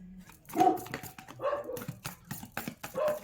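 Pet dogs on a rooftop, stirred up by children playing nearby, let out a few short barks and yips at moderate distance in an otherwise quiet scene.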